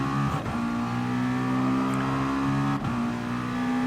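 A racing car engine in Gran Turismo Sport held at a steady high-pitched drone at full throttle, loud and close, with brief dips that sound like quick gear shifts and no talk.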